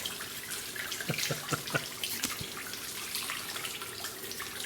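Antifreeze pours and splashes out of a stripped Land Rover 110 engine with a rusty cooling system, a steady faint trickle and drip of liquid with a few sharper splashes, heard alone.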